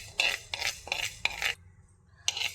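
A spoon stirs fenugreek seeds roasting in a hot pan, giving four quick scraping, rattling bursts in a steady rhythm. A short pause follows, then one more burst. No one speaks.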